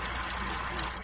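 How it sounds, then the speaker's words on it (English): Crickets chirp steadily in a continuous high drone that holds at a moderate level with no pauses, coming through an open microphone during an online class. No voices are heard. "We've got the crickets back."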